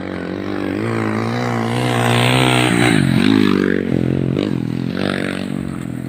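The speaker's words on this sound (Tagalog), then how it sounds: "So ganyan magpatakbo ng motor ang mga taga-probinsya" A motorcycle rides along a quiet provincial road, its engine droning steadily and loudly up close, with the pitch rising and dipping as the rider shifts speed.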